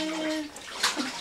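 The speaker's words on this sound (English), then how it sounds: "Chloe, go splashing. Chloe, go splashing." A small child splashes water in a bathtub, making a brief wet slosh and a couple of soft splashes up close, with an adult's voice briefly heard at the start.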